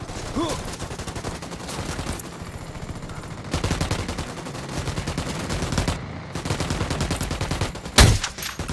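Sustained bursts of gunfire and explosive blasts in a Ghost Recon Wildlands firefight, loud and continuous with a sharp crack near the end, faint radio-style voices underneath.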